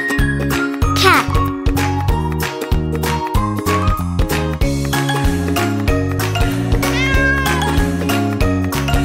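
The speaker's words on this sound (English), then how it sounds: "Cat." A cat meows repeatedly, several clear drawn-out mews close up, mixed with tinkling chime-like tones in a steady sequence.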